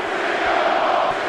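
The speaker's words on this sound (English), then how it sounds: "There's a crazy crowd here in Chicago." A loud, dense wrestling crowd in Chicago roars and chants CM Punk's name, a continuous wall of massed voices filling the arena without a break.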